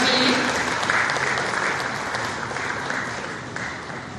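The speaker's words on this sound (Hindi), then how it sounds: "जोरदार तालियां हो जाएं श्यामा राठौर जी के लिए" Dense applause from a ceremony audience honouring Shyama Rathore at a beneficiary card-distribution event fills the moment, steady and close, tapering slightly toward the end.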